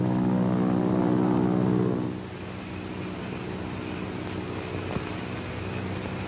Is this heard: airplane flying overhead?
yes